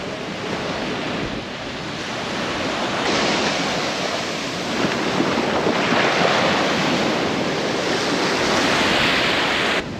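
Waves of the Arabian Sea wash in at Fort Kochi, a loud continuous roar of surf with gusting wind buffeting the microphone, swelling slightly toward the end with no voices.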